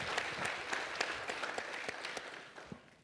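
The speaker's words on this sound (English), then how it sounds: "A round of applause for him, please." Quiet, distant applause from a media summit audience for a speaker, a short run of crisp claps that tapers off at the close.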